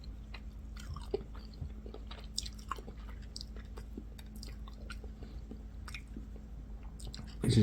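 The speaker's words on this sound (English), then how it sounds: "This is the skin of the fish. Put that in. Chew it." Soft, close chewing of fish skin, a steady run of small wet crunches and squishes with brief pauses between bites.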